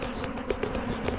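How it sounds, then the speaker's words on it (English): A steady buzzing hum of many bees close by, a swarm on a post, with faint soft taps scattered through it. "Lots of bees down there with pollen"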